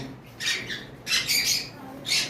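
A tame pair of conure parrots lets out three loud, harsh squawks in short bursts, close by, with quiet gaps between calls.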